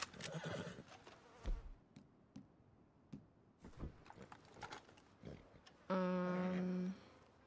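A horse in Red Dead Redemption 2 lets out one loud, drawn-out whinny near the end, after a stretch of quieter hoof and ambient game sounds.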